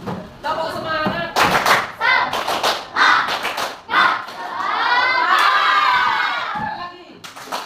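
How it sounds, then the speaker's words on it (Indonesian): Students in a classroom perform tepuk semangat, a rhythmic spirit clap, with bursts of patterned hand claps and thumps, loud shouted voices joining in, and a sustained group call toward the end. "Tepuk semangat."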